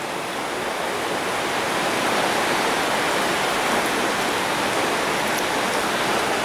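Dense, steady roar of heavy tropical rain pouring down continuously in Koh Samui, Thailand, loud and close with no pauses or voices.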